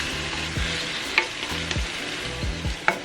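Canned diced tomatoes with basil, garlic and oregano sizzle in a hot pan as a utensil stirs through them with steady scraping strokes, close and fairly loud, with no voices.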